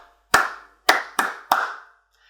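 Four sharp hand claps in an uneven rhythm pattern, close and crisp with short ringing decays, two spaced apart then two quicker, with silence between.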